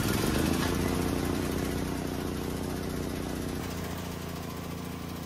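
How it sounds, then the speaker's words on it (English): A DuroMax XP12000EH dual fuel portable generator engine runs with a loud, steady mechanical drone and dense buzzing rattle from start to end, close to the listener. "Then you're going to insert the key and start the generator."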